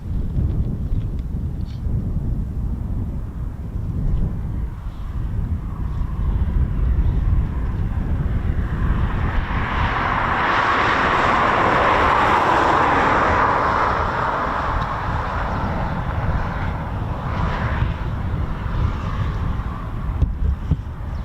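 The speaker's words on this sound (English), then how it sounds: "our first Typhoon departure is coming up" A Eurofighter Typhoon FGR4 jet departs from an RAF station. Its distant engine roar builds to a broad, loud peak around the middle, then slowly recedes under gusty wind noise.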